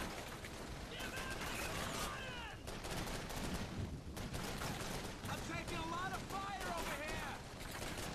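Gunfire in the Call of Duty 3 video game: dense, rapid bursts of shots pound almost without pause, with a brief lull, while voices talk over the din.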